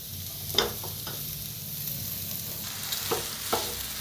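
Potatoes tossed into a hot frying pan for vada pav filling and stirred; a soft continuous sizzle with a few sharp scraping strokes of a spoon, close and fairly quiet.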